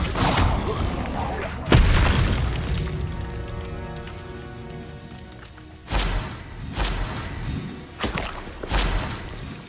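Fiery Confringo spell blasts in the Hogwarts Legacy video game: a sharp booming impact, then a long crackling, hissing decay, followed by several more close, punchy bursts in uneven succession.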